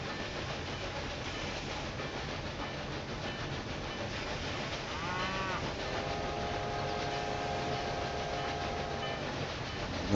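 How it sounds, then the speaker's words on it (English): A cargo train in the railway simulation game Railway Empire 2 rumbles steadily throughout. Partway through, a tonal rail screech or horn rises over the continuous rolling noise, with bleating-like sounds mixed in and no talk. "The noise we heard here is actually the cargo train in front of us."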